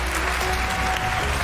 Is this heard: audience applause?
yes